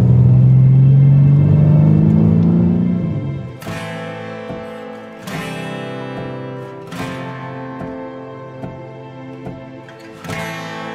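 A car climbs a narrow mountain road with a loud, steady engine drone for a few seconds, then the engine fades beneath rhythmic music.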